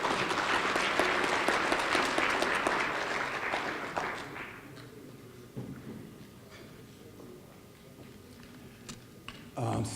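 An audience at a police chief candidate town hall applauds, a dense burst of clapping that fades after about four seconds into quiet room noise with a few scattered claps and a brief thump near the end.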